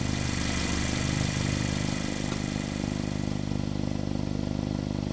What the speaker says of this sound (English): when it's cold, you can probably hear the tapping sound of the valves at idle